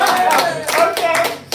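An open mic comedy audience claps in a dense, lively burst of applause close by, with some faint voices mixed in near the end.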